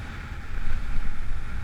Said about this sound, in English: you'll be able to hear how hard that wind is blowing